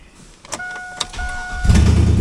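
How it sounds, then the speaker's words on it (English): A 2002 Chevy Silverado 2500HD with a 6.0L LQ4 V8 and an exhaust leak fires up: a steady dashboard chime and a few clicks, then the engine catches into a loud, close, low rumble that fills the end. "LQ4 under the hood with a gnarly exhaust leak. I'll go ahead and fire it up."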